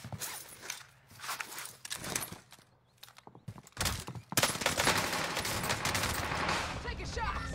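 Rapid gunfire bursts rattle through a first-person shooter match, dense and loud toward the end amid footsteps and other game effects, with a player talking over parts of it.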